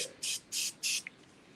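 Styling mousse sprayed onto damp hair on a mannequin head, three short hissing bursts in quick succession, close and fairly loud, followed by a tiny click.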